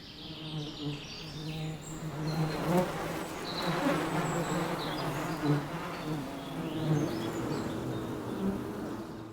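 Thousands of worker honeybees buzz inside a crowded wild forest nest, a close, dense, continuous droning hum that swells and wavers, with faint higher chirps scattered above it.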